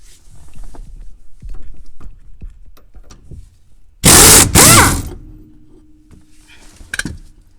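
An impact wrench with a socket spins off a rusty nut on a shock absorber, a loud hammering burst lasting about a second, set between quieter clicks and workshop handling noises.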